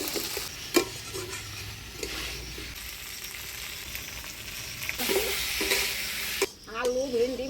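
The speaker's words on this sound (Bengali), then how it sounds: "আলু ভেন্ডি মশলার সাথে ভালো করে কষাই নিলাম" Chunks of potato and okra fry in an onion-garlic spice paste in a village kitchen, a dense continuous sizzle with intermittent stirring scrapes, close up and fairly loud.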